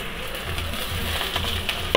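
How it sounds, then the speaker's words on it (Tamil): Chopped onions sautéing in oil in a pan alongside pirandai and red chillies, a steady close sizzle with soft stirring scrapes throughout, no talking. "கட் பண்ணி வச்சுருக்க வெங்காயம் சேர்த்துட்டு நல்லா வதக்கி விடுங்க"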